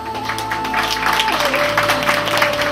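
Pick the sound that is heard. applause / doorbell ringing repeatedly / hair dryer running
applause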